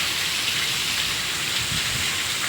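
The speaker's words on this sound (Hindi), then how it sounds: "सब जगह बारिश होती।" Heavy rain falling over a house roof during a storm, a dense, steady hiss with no pauses, fairly close and alone, with no talk.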